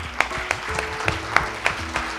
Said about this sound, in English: Again, big round of applause for the Pratishta team.